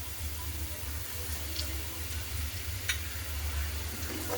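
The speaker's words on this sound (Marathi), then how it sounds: "शेंगदाण्याचं कूट 1 मिनिटभर परतून घेऊ।" Sliced onion and crushed peanuts sizzle steadily in a pan, a soft continuous frying hiss with a few light ticks of stirring.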